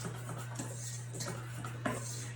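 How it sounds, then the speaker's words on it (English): Flour and dry ingredients whisked in a bowl for a dairy- and egg-free blueberry upside-down cake, a continuous soft scraping and light clinking of the whisk, close up, with no voices. "you're just going to whisk that so there's no lumps in your flour dry ingredients"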